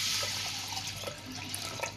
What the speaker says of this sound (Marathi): आता ह्याच्यात पाण्याचं प्रमाण वाढवूया।